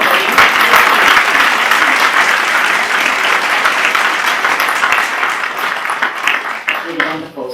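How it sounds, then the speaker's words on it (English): A live audience at an interview event breaks into loud, dense applause that holds steady for several seconds, then thins and fades out at the end. "I think that deserves a round of applause"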